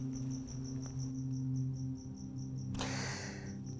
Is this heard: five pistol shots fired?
no